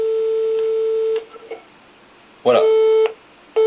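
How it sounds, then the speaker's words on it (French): A landline handset is lifted from its cradle and a steady dial tone sounds loud and close for about a second. A short click follows, then a few quiet beats, and the tone returns briefly. A single brief spoken word comes in between. "si je décroche le combiné, on a bien la tonalité"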